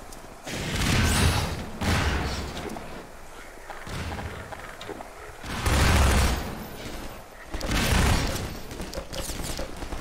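Half-Life 2 gunfire booms in bursts of heavy rapid shots with thuds and explosions, loud and close, separated by brief quieter stretches of game noise; no one speaks.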